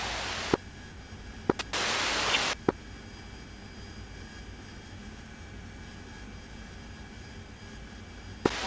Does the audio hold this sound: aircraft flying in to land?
yes